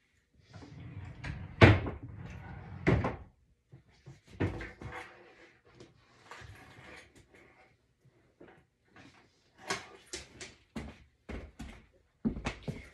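A dresser drawer holding baby clothes is opened and closed indoors with a loud thump near the start, followed by scattered wooden knocks, slides and rustling of clothing at close range.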